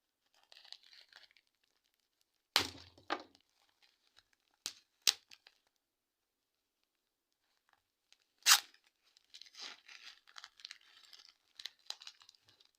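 Paper wrapping is torn open around a bundle of three phones, with sharp ripping and crinkling bursts scattered between quieter rustling, close and fairly loud, no voices.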